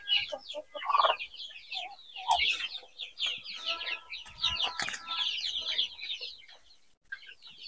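Chickens cluck and chatter continuously inside a semi-closed poultry house walled with UV plastic, many birds overlapping at close to mid range, with occasional louder squawks and brief wing flaps.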